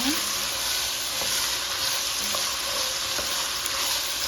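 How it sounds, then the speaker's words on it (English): Garlic, onion and carrot sauté in a pot, making a loud, dense, continuous sizzle up close, with a few light taps of a utensil. "I just add some garlic, some onion, and the carrot to the pot, and I'm going to saute them up like so"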